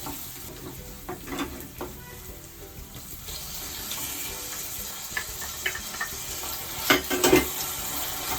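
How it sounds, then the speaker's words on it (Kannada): Chopped onion with ginger and curry leaves, then tomato, frying in a pan for vermicelli upma (shavige bath), giving a steady soft sizzle with occasional stirring scrapes and watery clatter. A few louder clinks come near the end. "ಹೆಚ್ಚಿದ ಈರುಳ್ಳಿ ಚೆನ್ನಾಗಿ ಬಾಡಿಸ್ಕೋಬೇಕು. ಸ್ವಲ್ಪ ಕೆಂಪಗಾದ ನಂತರ"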